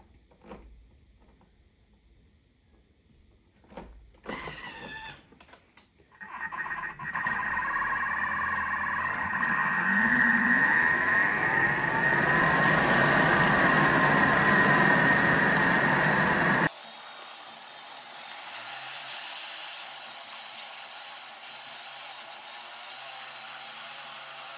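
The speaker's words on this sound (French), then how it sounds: "Et 1 minute à vitesse 10." A Thermomix grinds toasted oat flakes at top speed 10, a loud, steady high-pitched motor whine and rushing roar that runs for about ten seconds after some clattering setup, then cuts to a quieter hum.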